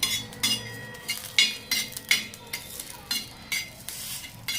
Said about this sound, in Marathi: खोबरं भाजून घ्यायचं थोडंसं